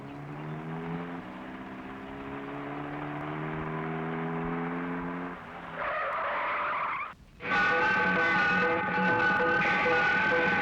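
A car skids to a stop with a long tire squeal over a running engine, loud and close, ending in a brief pause before a sustained screech and rumble.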